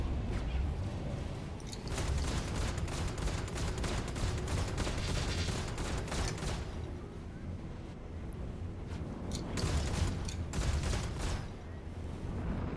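Sustained gunfire from ship weapons in the space combat game Star Citizen Arena Commander, a dense, continuous roar of rapid shots with brief lulls, loud throughout.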